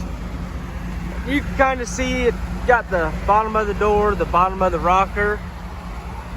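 Steady low road-traffic rumble runs in the background outdoors beside a trail-riding truck, while someone talks close over it throughout.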